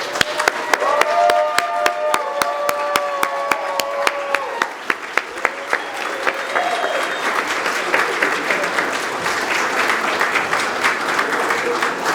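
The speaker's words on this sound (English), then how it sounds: "let's give one more round of applause to the class of 2021" Sustained applause at an emergency medicine graduation for the class of 2021, steady crowd clapping with a few voices and whistles briefly over it at the start.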